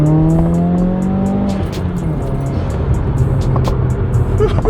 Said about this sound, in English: nice little second into third gear there.